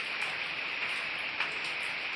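Steady rain falls outside, a soft continuous hiss with faint drips and patter, moderately distant and fairly quiet, with no voices.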